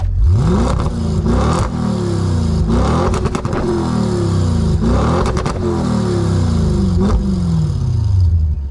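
An Audi RS6 C7 fitted with a full Milltek exhaust revs hard and loud close by, its engine rising and falling in repeated sweeping bursts for the whole stretch.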